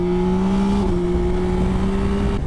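A 2024 Yamaha Tracer 9 GT+ motorcycle engine pulls hard under acceleration, a loud, steady, close-up tone that climbs slowly in pitch and holds strong with wind noise throughout.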